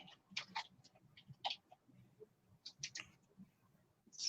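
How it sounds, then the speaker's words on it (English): Typing on a computer keyboard, a quiet scatter of irregular clicks and taps in small bursts, close and faint. "I should probably try to type it in."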